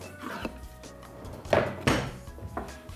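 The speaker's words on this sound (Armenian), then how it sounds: "ընկույզ մանրացնենք։" Walnuts are chopped with a knife on a board while meat cooks for Armenian Msho kololak: a handful of dull wooden knocks and crunchy cuts at uneven intervals, fairly close, with quieter handling in between.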